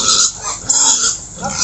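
A fattener pig grunts and snorts in a few rough, low bursts, close and loud, with no talk over it.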